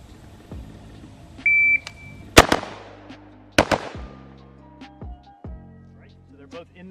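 Rifle fired during a shooting drill, with a shot timer beep, then two sharp, loud cracks about a second apart, each followed by ringing echo, then quieter metallic clinks and faint target hits.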